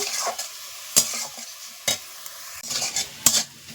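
Papaya for chutney is stirred in a frying pan, with sharp intermittent scrapes and clicks of the utensil against the pan over a soft, low sizzle, close up and alone.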